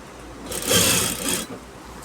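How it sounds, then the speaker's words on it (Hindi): Sewing machine with an 18-gauge needle stitching a full-length hem along the inside of a jeans leg, one close, steady burst of whirring that swells and fades over about a second, with no talking. "पूरी एक पैर की सिलाई लगाई मैंने इसमें"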